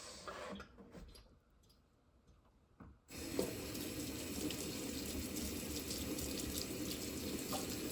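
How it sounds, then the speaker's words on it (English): Tap water runs steadily over sprouting sweet potatoes as each tuber is washed by hand, a quieter, broken trickle in the first few seconds giving way to a full, constant splashing stream. "I have to wash it individually like that."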